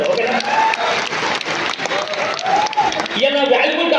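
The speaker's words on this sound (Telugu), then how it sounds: "మీ అప్లయన్స్ కూడా మీరు ఒకసారి గట్టిగా క్లాప్స్ ఇచ్చుకోండి" An audience claps together in a hall, a dense, loud patter of many hands filling the whole stretch, while a voice speaks over the applause.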